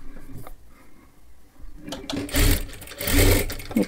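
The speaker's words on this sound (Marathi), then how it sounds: "हे अशा पद्धतीने घडी करून घ्यायची आहे आणि डबल शिलाई मारून घ्या।" Sewing machine double-stitching a folded tassel for a sleeve, quiet handling at first, then two loud bursts of fast mechanical whirring and needle clatter close by.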